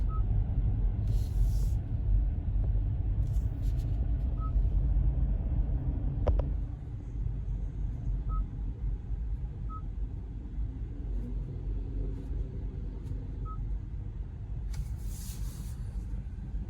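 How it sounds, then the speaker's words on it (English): Night road traffic in Northside at about 9:20 p.m., a low continuous rumble of passing vehicles heard from inside a car, with a few faint clicks and short hisses over it. "this is traffic going in Northside at about around 9:20 or so"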